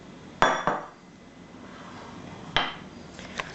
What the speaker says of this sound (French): Je vais mettre le saladier et le verre de côté.